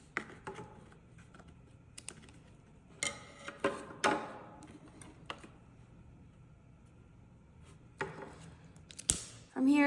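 Scissors trimming the ends of a wax string bracelet, a few faint, crisp snips and small clicks scattered over quiet handling noise.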